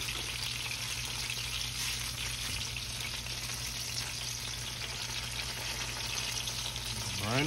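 Fried hand pies bubbling in hot grease, an old-school dessert of two ingredients, a continuous crackling sizzle held close and steady, with a brief clatter near the end and no talk.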